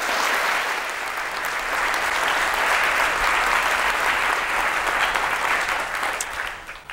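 Sustained audience applause fills the hall for about seven seconds, welcoming a plastic surgeon to the stage, with a dense steady clapping that fades slightly at the end.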